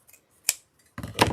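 Scissors trim ribbon for a black and white welcome wreath with two quick, close snips, one sharp cut followed by a brief pause and a second, fuller cut.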